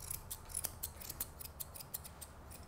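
Scissors snip quietly and rapidly at the hair over a Labradoodle's paw pads during grooming, a close series of fine metallic clicks in an otherwise hushed room.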